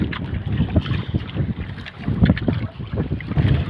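A small fishing boat out on the open sea, heard as steady engine chug, wind buffeting the microphone and splashing water, loud and close with no talking.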